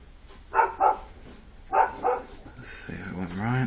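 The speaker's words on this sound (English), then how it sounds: "That was the puppies barking." Puppies bark nearby in two pairs of sharp yips, then a higher yelp follows, with a voice starting to talk under it at the end.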